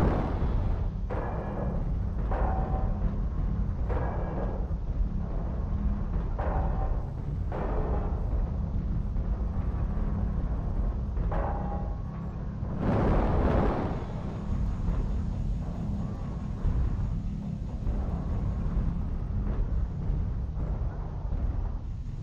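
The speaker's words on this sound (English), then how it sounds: "Artillery strike online." Artillery strike explosions in a tank combat video game, heavy low rumbling booms recurring through a long stretch, with one stronger blast midway.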